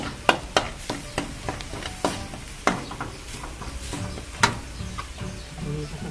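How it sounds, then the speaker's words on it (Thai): Dried chili peppers being dry-roasted in a pan, a series of sharp scraping and tapping strikes as they are stirred, irregularly spaced over a faint background hiss, with no talking. "ต้องเอาพริกคั่วให้แห้งก่อนนะครับให้มันเปลี่ยนสีอะไรเงี้ย"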